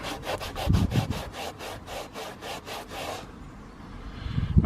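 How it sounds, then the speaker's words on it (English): An ArmorAll dashboard wipe scrubs back and forth over a dirty car dashboard in quick, even rhythmic strokes, about a dozen close rasping passes, then stops, leaving a quiet pause before a handling bump. "I'll scrub this bit one more time because I can even see it hasn't lifted the dirt."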